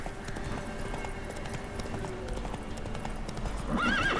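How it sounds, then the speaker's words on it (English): A horse galloping with quick clip-clop hoofbeats in the video game Witcher 3, ending in a clear neigh, heard close with game ambience around it. "Whoa there, Roach"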